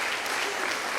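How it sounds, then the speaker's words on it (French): Classroom audience applauding a student, a dense continuous wash of many hands clapping at steady loudness throughout, with faint voices mixed in. "je crois qu'on peut l'applaudir"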